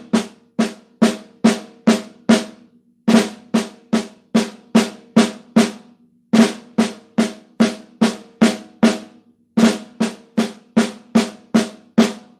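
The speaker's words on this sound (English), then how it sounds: "you're actually going to do a small flam embellishment with the right hand to start" Solo snare drum playing a paradiddle lick, each phrase opening with a flam. Crisp, close strokes fall in quick seven-note bursts, repeated four times with short gaps between.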